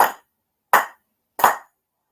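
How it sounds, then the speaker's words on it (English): Sharp, ringing hand claps at a Shinto shrine ceremony ring out alone in a quiet space, three crisp isolated strikes spaced evenly about three quarters of a second apart, each decaying quickly. "4 sincere claps"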